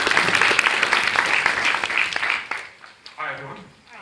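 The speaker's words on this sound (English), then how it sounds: "So let's give him a round of applause" Audience applause at a workplace learning conference session, a dense burst of many hands clapping that fades out toward the end, leaving a brief quieter tail where a voice begins.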